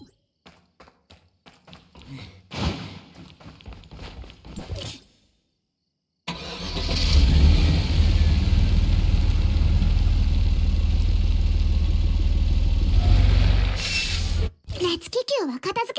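A car engine in a video game cranks and starts, then settles into a loud, steady idle for several seconds before cutting off; tapping and other game sounds come before it, with talk around it.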